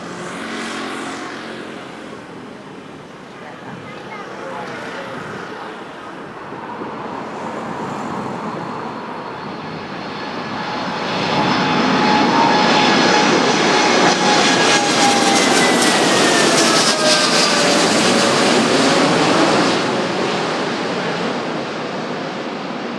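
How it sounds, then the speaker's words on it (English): Airplanes near an airport in Taipei, Taiwan: a distant propeller-driven plane drones, then a jet roars louder and closer with a rising whine before slowly receding, all under steady outdoor ambience. "we didn't have to wait very long before we got to see some planes landing, but what we really wanted to see were some planes taking off"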